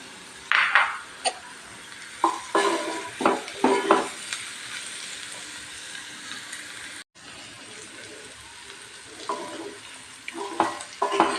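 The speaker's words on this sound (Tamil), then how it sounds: "இன்னும் கொஞ்சம் நம்ம போட்டு கொஞ்சம் ஃப்ரை பண்ணிக்கலாங்க." Cauliflower stir-fries in a pan for a lunch box dish, with steady sizzling under repeated scraping stirs of a spoon, bursts of clatter coming close and loud over the hiss.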